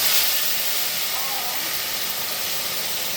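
Meat hits hot oil tempered with dry red chillies and whole garam masala, giving a loud, broad sizzling hiss that stays steady throughout.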